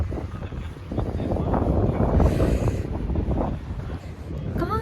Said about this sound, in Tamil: காற்று அடிக்குது, அந்த காற்று தான் லைக் சரியான கூல்